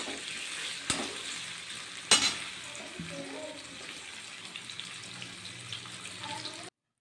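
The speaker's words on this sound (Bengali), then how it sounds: "একটু তেলটা একটু বেশি নিয়েছি তো আলুটা একটুকু নেড়ে চেড়ে মিশিয়ে নিলাম" Potatoes sizzle in plenty of oil in a pan for a vegetarian dish with tender drumsticks, and a steady close frying hiss runs under two sharp utensil clinks and soft stirring.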